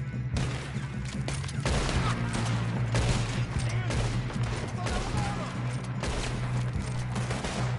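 Gunfire in the video game Red Dead Redemption 2, with loud rapid shots in dense bursts over a low rumbling backdrop, and some voices mixed in.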